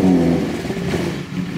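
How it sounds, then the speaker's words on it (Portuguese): A BMW motorcycle engine idles in a steady, loud, close rumble with a slight rev, the first start of the day, with no voices over it. "É só vir aqui e dar a primeira partida do dia."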